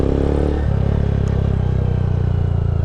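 A motorcycle engine runs steadily in second gear, with a loud, constant low throb and a brief dip early on before it settles into an even drone.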